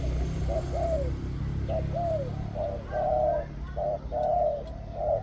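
A decoy dove coos in a repeated series of soft, hollow mid-to-deep notes, fairly close, over a steady low background hum.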